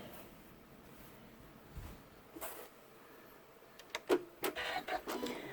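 An embroidery machine stitches an in-the-hoop scallop pouch with felt laid over the design area. Quiet scattered ticks come first, then faint rapid mechanical clattering and whirring that gathers toward the end, with no talk.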